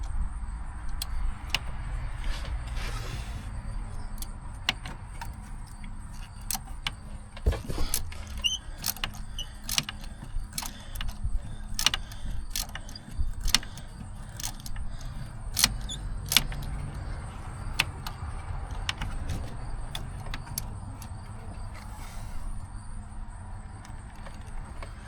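A wrench snugs a spark plug on a Ford Explorer, giving sparse metallic clicks and taps close up over a low background hum, with small clanks and pauses between strokes.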